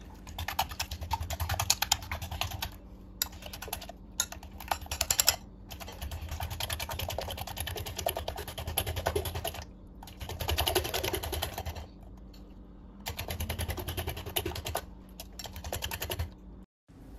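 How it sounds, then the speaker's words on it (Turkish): A whisk beats eggs quickly in a bowl with cabbage and a little salt, making rapid, continuous close-up clattering taps that run in bursts with brief pauses. "Yumurtaları hızlı bir şekilde bir çırpıcı yardımıyla karıştıralım."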